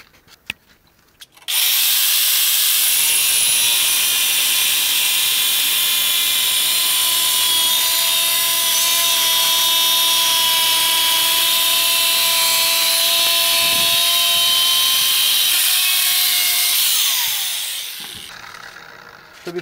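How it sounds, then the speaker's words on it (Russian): An angle grinder with a cutting disc spins up and bites into porcelain tile, holding a loud, even high-pitched grinding whine for about fifteen seconds before spinning down, with no voices over it. "Берем болгарку с отрезным диском. Вот, и начинаем резать."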